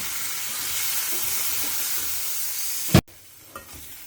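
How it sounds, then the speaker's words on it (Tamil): Okra sautés in a pan with turmeric and spice powders, giving a close, steady hissing sizzle that cuts off with a brief thump, then fades to faint sizzling. "ஸோ வெண்டைக்காயும் போட்டு கொஞ்சம் வதக்கிக்கலாம்."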